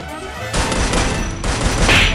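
Gunfire in the Free Fire battle royale game crackles in dense bursts, a loud rapid fusillade of shots starting after a brief quiet moment and continuing with a short pause midway.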